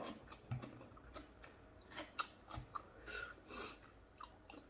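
Close, crisp chewing of a crunchy, spicy papaya salad with fresh salmon and shrimp, with irregular bites and crunches throughout and no talking.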